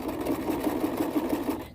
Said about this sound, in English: I don't want my sewing machine to spaz out right in the middle of this long seam